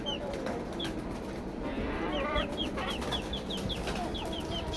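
Hens in a backyard coop cluck repeatedly as a white hen lays an egg, with short chirping calls and a steady farmyard background throughout.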